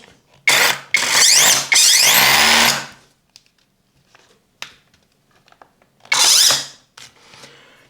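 A Parkside Performance PPAKH 20-Li A1 cordless hammer drill revs in several short bursts, whining up and down in pitch, with quiet pauses and clicks between runs.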